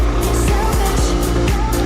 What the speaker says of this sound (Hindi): आगे से आती हुई हमारी गाड़ी